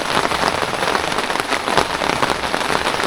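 Heavy rain pours steadily onto garden surfaces near cucumber beds, a dense, loud, unbroken hiss with scattered louder drop hits and no voices.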